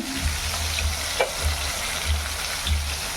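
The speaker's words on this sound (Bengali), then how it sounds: "চারটেই একবারে ভেজে তুলে নিই" Four pieces fry together in hot oil in a pan with a loud, continuous crackling sizzle, while a low rhythmic thump repeats about every half second beneath it and a single brief clink cuts through.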